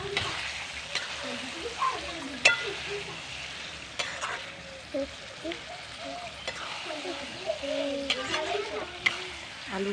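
Mutton stir-fries in a pot over a wood fire, sizzling steadily with intermittent scraping stirs and occasional clinks, close and moderately loud.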